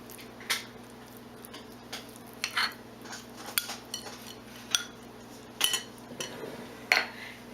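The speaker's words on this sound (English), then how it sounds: "just spoon it out of the jar into a little bowl as you want it" Spoon scooping raw vegan chia cereal out of a large jar into a small bowl, giving a series of light clinks and scrapes of utensil on glass at an irregular pace, close and quiet over a steady low hum.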